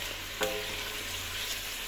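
Soft, steady sizzling of onions frying in hot oil in a pot, with a brief clink of a utensil against the pot early on.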